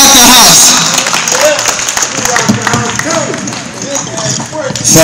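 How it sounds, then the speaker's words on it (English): Crowd applause and cheering for the performer Fast Break at a live Expoland show in Virginia, a dense, steady wash of clapping from a packed room that swells near the end, with shouting voices and talk running over it throughout. "Give him another round of applause"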